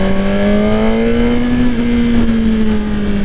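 A 2024 Suzuki GSXR1000R liter-bike engine with its stock exhaust drones at a steady, slightly rising pitch while riding, loud and close, a continuous smooth hum over wind noise with no speech.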